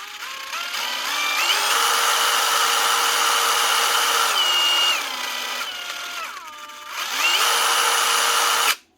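Dewalt power drill run through its speeds after repair, the motor whining up and down in pitch as it shifts, loud and steady, dipping midway before revving again and cutting off abruptly.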